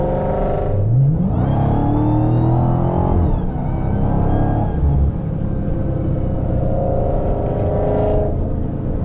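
A 2023 Dodge Charger Hellcat Jailbreak engine revs hard and loud, rising in pitch as it accelerates, with a steady roaring drone throughout.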